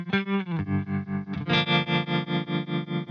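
Eventide UltraTap delay pedal on its Trembience preset, heard alone: a sustained, harmonically rich tone with a rapid, even tremolo pulsing throughout, the texture swelling and brightening with a fresh chord partway through.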